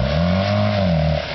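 A Suzuki Samurai stuck in a ditch with its wheels spinning. Its engine revs loud and close in one steady, strained drone that drops off slightly at the very end.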